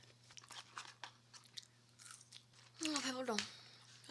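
A Lotteria hamburger is bitten and chewed up close, soft crunchy chewing in quiet irregular bursts over a low electrical hum, followed by a louder voice near the end.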